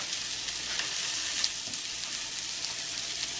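Kale and chard cooking down in a pan with broccoli and leeks, giving a steady, close hiss of frying with faint crackles and a soft stir or two partway through.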